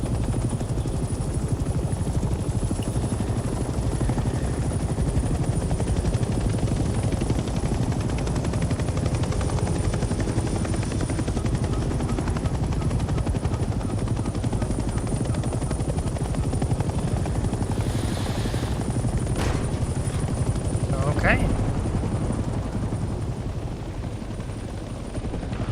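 A helicopter in the Vietnam war game Hell Let Loose Vietnam drones steadily and loudly with a constant rotor wash, and a few distant gunshots crack through near the end.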